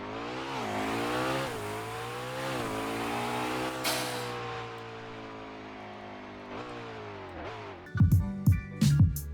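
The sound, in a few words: car turbo spooling up in Roblox Driving Empire video game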